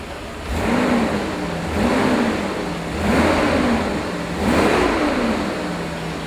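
A 1988 Mercedes-Benz 560SL V8 runs smoothly while driving, its engine note swelling and easing in a steady rhythm of four gentle surges, moderately loud and close, with no talk.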